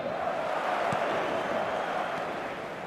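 Steady stadium crowd roar from a night match in the football video game eFootball 2025, a continuous broad wash of massed voices holding at a loud, even level throughout with a faint brief accent near the one-second mark.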